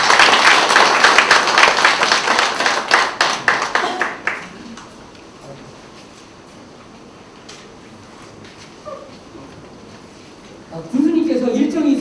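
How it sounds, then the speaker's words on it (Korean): An audience at a commemorative ceremony in a hall gives a poet loud, dense applause that fades after a few seconds, followed by quieter room noise and then someone speaking over a microphone. "다 같이 큰 박수로 맞이해주십니다"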